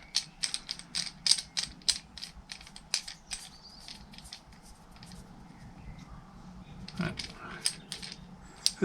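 Small metal and plastic parts of an Insta360 vibration damper mount click and rattle as a piece is threaded on, a quick run of close ratchet-like ticks, then quieter fiddling with a few louder clacks near the end.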